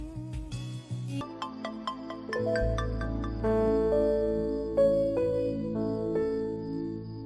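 A phone ringtone for an incoming call plays loud and alone, a bright melodic tune of repeated chiming notes over a low sustained tone.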